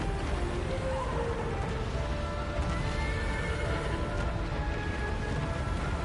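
Horse whinnying in the Shadow of the Colossus video game, a clear neigh over steady rain-like ambient noise with possible hoof clops, continuous and moderately loud with no talking.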